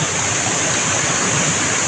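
A steady, loud rush of river water flowing at a riverside, a broad continuous roar close by and heard on its own without voices.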